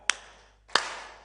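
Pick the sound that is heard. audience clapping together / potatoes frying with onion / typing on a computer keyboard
audience clapping together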